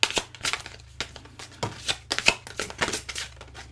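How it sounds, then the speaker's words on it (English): A deck of cards is shuffled up close in quick bursts of riffling and rapid flicks, crisp and rhythmic over a faint low hum, with no talking. "Okay, so I'm shuffling and,"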